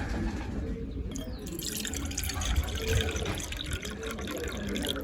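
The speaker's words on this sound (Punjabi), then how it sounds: "ਥੋੜਾ ਜਿਹਾ ਕੌਲੀ ਚ ਪਾ ਲੈਨੇ ਨੇ ਪਾਣੀ" Water is poured into a small bowl while medicine for pigeons is being prepared. The pour runs as a steady splashing trickle for about five seconds, close by.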